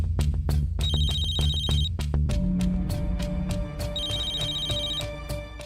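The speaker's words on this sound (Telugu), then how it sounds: "ఎంత రాత్రిపూట ఫోన్ ఎవరు చేస్తున్నారు?" A phone ringing at night in a Telugu household drama scene, repeated electronic ringtone bursts in a steady rhythm over a low musical background, loud and close throughout.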